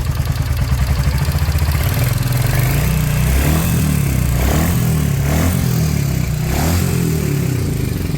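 A motorcycle engine, recently repaired after seizing, idles steadily then gets a few light, gentle revs, loud and close with no talking.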